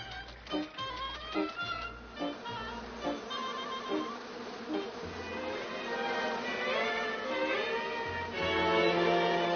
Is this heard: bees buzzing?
yes